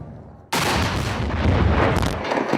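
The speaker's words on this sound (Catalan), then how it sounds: "Així queia, amb una explosió controlada, tot un símbol de la Guerra Freda a la Costa Brava." Controlled demolition of the Radio Liberty antennas on the Costa Brava: a sudden loud blast that rolls into a long, rumbling roar of collapsing structure.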